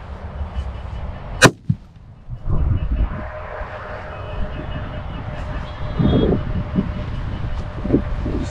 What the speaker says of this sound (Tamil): இது வந்து 5 இன்ச்சு கட்டு வெடி